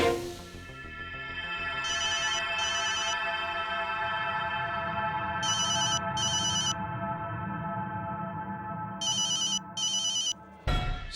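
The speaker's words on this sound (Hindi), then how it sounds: "तुम्हारे नंबर से फोन आ रहा है।" A mobile phone rings with an incoming call during a Hindi drama scene, its bright electronic ringtone sounding in three short repeated bursts over steady background music.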